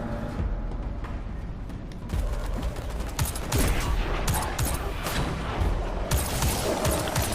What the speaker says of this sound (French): Donc ça explose là sur ma gueule.